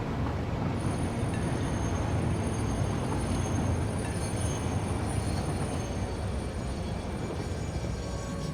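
Train running in the video game Satisfactory, a steady, loud rumbling rail roll with faint high wheel squeal tones, continuous and unbroken throughout with no talking.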